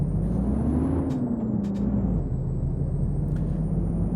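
A truck in a trucking video game brakes, with a steady engine rumble and a loud continuous hiss of air brakes, close and constant throughout, with no voices.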